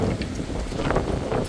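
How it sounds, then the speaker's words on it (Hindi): Strong storm wind gusting outdoors in a hilly village, a steady broadband roar with rustling surges that fills the whole stretch without pause, close to the microphone and buffeting it. "खतरनाक वाली हवा चल रही है"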